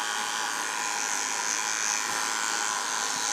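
An electric shaver hums continuously while trimming the paws of Forest, a 10-week-old puppy, a steady close buzz with no breaks and no voices.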